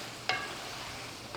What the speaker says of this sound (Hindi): अब इसको हम अच्छे तरीके से हिला लेंगे।